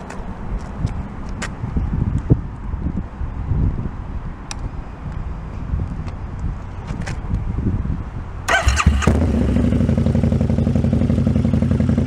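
A Harley-Davidson V-Rod Muscle motorcycle engine idles in neutral with rough mechanical clatter, then revs up loudly and holds a steady, strong roar near the end.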